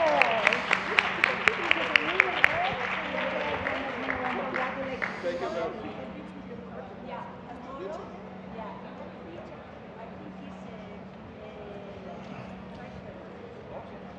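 Lively applause from a crowd, loudest at the start and then thinning into scattered clapping while voices talk over it.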